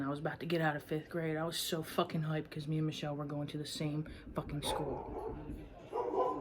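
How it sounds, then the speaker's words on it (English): A dog barks and yips somewhere in the room in short bursts, mostly buried under a person's steady, close conversational talk. "That's a dog."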